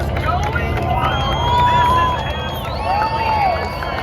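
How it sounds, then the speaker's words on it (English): Outdoor crowd roaring and cheering at the King of the Hammers off-road race finish line, a steady loud hubbub with rising whoops and shouts, continuous throughout and no clear talk. "the crowd is going wild"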